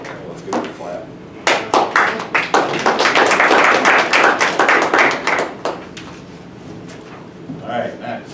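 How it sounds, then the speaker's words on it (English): Audience applause at a commission meeting, a burst of hand clapping that swells quickly, holds for several seconds and then thins out, with some talk around it. "Let's give it a clap."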